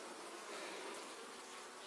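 A swarm of honeybees drones steadily around a small beehive, the buzzing continuous and even, with no voices over it.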